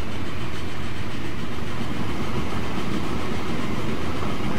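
A train on rails in the railway building game Transport Fever: a steady, dense rumble and rolling rattle from the running train, constant and loud throughout, no voices.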